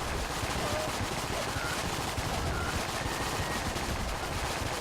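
Dense, rapid gunfire fills the action of the video game Enter The Gungeon, a continuous loud crackling barrage with no breaks and no talk.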